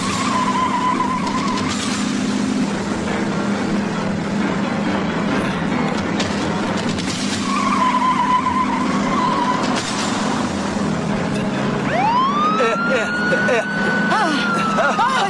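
A runaway car in a classic film skids with long, loud tire squeals rising and sweeping, set against a continuous roar of engine and traffic noise and a repeating siren-like tone.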